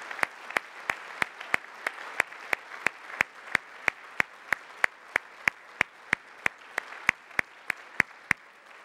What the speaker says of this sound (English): give one loud clap offering of praise to the Lord God Almighty